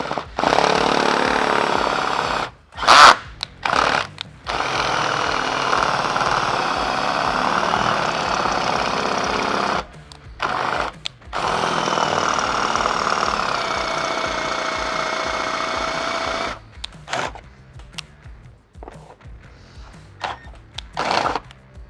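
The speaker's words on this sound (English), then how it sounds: "that is the reason why we're drilling through both of those layers" A power drill bores through both layers of a 14th-generation Ford F-150 Pro truck bed during a rack install, running as a loud, sustained whine in long bursts broken by short pauses.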